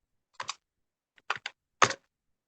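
A few separate keypresses on a computer keyboard sound as short, close clicks in three small clusters, with silence in between.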